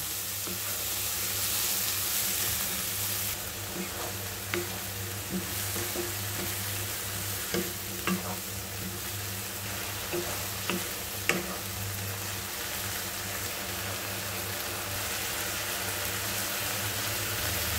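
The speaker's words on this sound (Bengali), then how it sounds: "এখন কিছুটা পরিমাণ আঁচ বাড়িয়ে দিয়ে এটিকে ভেজে নিব প্রায় 2 থেকে 3 মিনিট ধরে" Steady, dense sizzling of arum stems frying in a hot pan, with occasional soft clicks and stirs, no voices.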